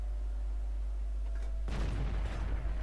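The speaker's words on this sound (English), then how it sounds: "One more shot should finish this fellow off." Tank cannon fires in the World of Tanks video game, a single sudden heavy boom over a constant low engine rumble, followed by a rough rolling decay.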